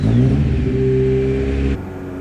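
A loud Ford Escort RS Cosworth rally car engine, around 350 horsepower with a single-box exhaust, revs hard with a deep, rumbling exhaust note, holding steady before dropping off abruptly near the end.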